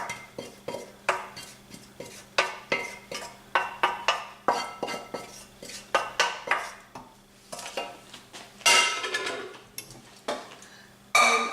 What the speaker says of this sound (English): I'm just going to stir all of these round. In this pan.